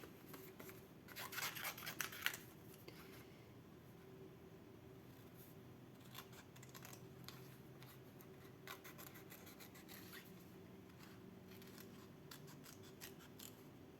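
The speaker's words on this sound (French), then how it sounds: "Je vais découper comme ça." Scissors cut paper for a handmade peacock and flowers card, a short burst of close crisp snipping followed by faint sporadic paper rustles and small snips in a quiet room.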